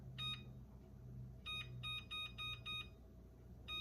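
Kitchen oven timer beeping while being set for a home-cooked dinner, a single beep followed by a quick series of short, evenly spaced electronic beeps and one more at the end, clear against a quiet room hum.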